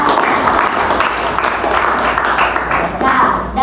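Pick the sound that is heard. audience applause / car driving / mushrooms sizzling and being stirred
audience applause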